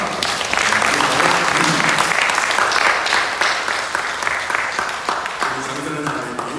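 A church congregation at a Sunday worship service in a Korean church in Montreal claps to welcome a new family, a full, sustained round of applause that gradually thins toward the end, with faint voices mixed in.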